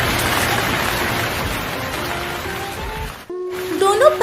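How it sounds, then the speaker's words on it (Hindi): Steady rain hisses and patters continuously, with a brief dropout before a faint tone rises at the end. "अचानक से बारिश होने लगती है।"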